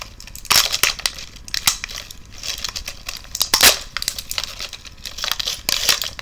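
Stiff plastic packaging of a Mattel Barbie Peek-a-boo Petites Cowardly Lion figure crinkles and crunches as it is handled and pried open, with sharp irregular snaps and crackles up close.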